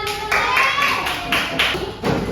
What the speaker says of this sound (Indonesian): Oke, tepuk tangan dulu buat Abizar.